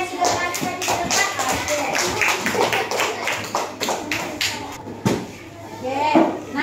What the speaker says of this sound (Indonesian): kita beri tepuk tangan dulu untuk teman kita yang sudah maju di depan